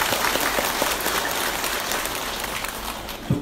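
Villagers seated together in a village pavilion applaud the staff at a flood-relief donation event in Ubon Ratchathani, a steady, dense wash of clapping that holds evenly throughout with no speech.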